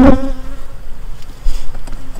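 Honey bees buzz inside a crowded hive, a sharp close buzz at the start settling into a fluctuating, lower droning hum.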